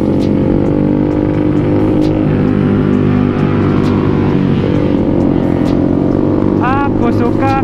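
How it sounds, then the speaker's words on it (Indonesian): A motorcycle on a group morning ride in Bogor, Indonesia, drones loudly and steadily under a rider's voice, with a constant engine and wind roar and brief rising revs near the end. "Gue mah enak naik motor ini."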